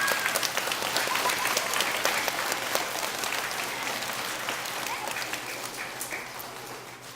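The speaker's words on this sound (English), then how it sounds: "let's give him a good round of applause." Applause from an audience of children and staff in an elementary school room, a steady wash of clapping that stays fairly even and slowly fades toward the end, with no voices breaking through.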